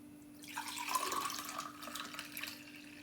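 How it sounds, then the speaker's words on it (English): Ginger, garlic and carrot drink poured into a glass, a steady liquid splash and trickle lasting a couple of seconds, close and moderately loud, with no talking. "pour this into a glass."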